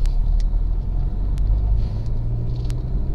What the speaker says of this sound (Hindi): अब पिकअप दिखा रहा है आपको, तो नॉर्मली फर्स्ट गियर पे उठ रही गाड़ी आराम से